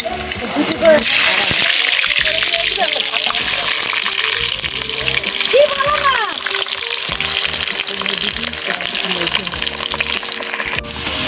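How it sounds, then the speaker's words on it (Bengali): Steady sizzling and crackling of potatoes frying in oil runs throughout, with a person talking over it and occasional clinks. "আগে আলুটা ভেজে নেবো।"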